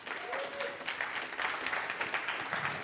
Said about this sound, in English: Let's give Melanie a round of applause.